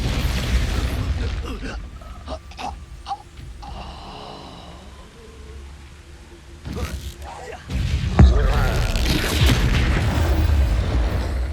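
Expulso spell explosions in Hogwarts Legacy, deep booming blasts that break up a quieter stretch of game sound, the loudest burst arriving near the end and rolling on into a heavy rumble.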